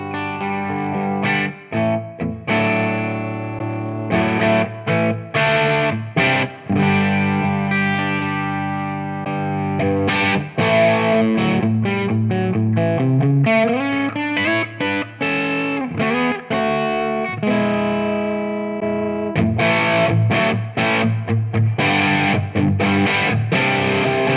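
Electric guitar played through a ToneX capture of a Bad Cat Cub V amp, direct amp-only with an IR speaker cab, low gain; chorded strums and single-note runs ring out with mild grit, close and clear, with no talking.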